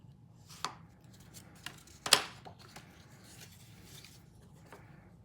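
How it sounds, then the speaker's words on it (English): Paper card flaps fold inward with soft, quiet crinkles and rubbing, broken by one sharp crisp crease snap near the middle. "we're just going to fold these flaps inward"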